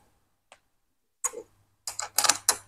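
A faint click, then a few quick bursts of ratcheting metal while tightening bolts on a cafe chair being assembled, clicking rhythmically up close with a low hum underneath.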